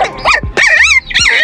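Young puppies, about one to two weeks old, yip and whimper in quick bursts: high, wavering cries with short breaks, close and fairly loud, with no talking.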